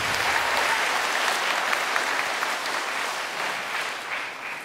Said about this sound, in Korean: 다시 한번 교수님들께 큰 박수를 부탁드립니다.